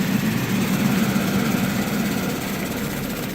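The C02 copper cable recycling machine runs with its blower and shaker on, giving a steady, loud mechanical drone and rumble throughout with no talking.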